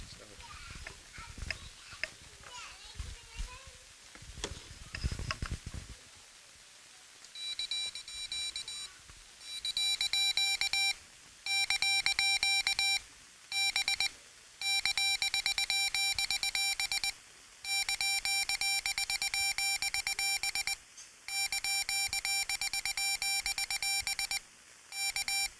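A microcontroller board's small buzzer beeps out a call sign in Morse code: after a few seconds of people talking, clear high electronic tones sound in bursts of varying length with short gaps, close and steady.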